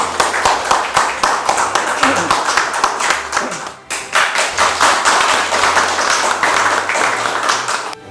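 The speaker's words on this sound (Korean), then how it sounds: "박수 한번 주시죠. 박수." Audience members at a Korean award ceremony for the Hwarang Combat Merit Medal clap in a steady, rhythmic unison beat, loud and close, pausing briefly midway before resuming, with a voice faintly speaking over the claps.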